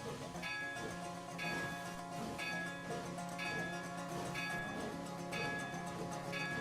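A locomotive in the Train Simulator video game rolls along at low speed, a steady rumbling drive with a rhythmic bell-like ding repeating about once a second, and a voice talking faintly underneath.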